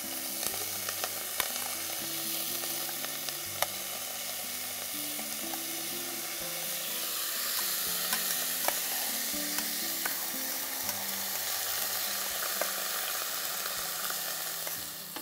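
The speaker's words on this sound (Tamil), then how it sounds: "இப்போ நம்ம கழுவி ஊற வச்சுருக்கிற ப்ரௌன் பாசுமதி அரிசியை இதோட சேர்க்க போகிறோம்" Soaked, hand-pounded brown basmati rice is tipped into a hot pan and sautéed, giving a soft, steady sizzle and gentle stirring that runs throughout beneath quiet background music.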